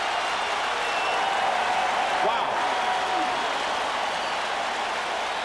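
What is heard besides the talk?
stadium crowd cheering at college football game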